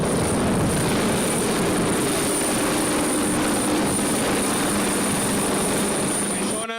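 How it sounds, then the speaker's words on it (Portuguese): Continuous heavy rotor and engine drone of a police helicopter flying overhead, loud and steady throughout with a faint whine on top. "helicóptero de polícia, helicóptero de guarda-costa"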